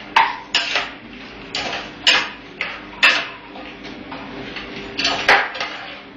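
A ladle stirs food in a hot pot, making repeated scraping, clattering strokes against the metal at a loose, uneven rhythm, close and loud with no talk.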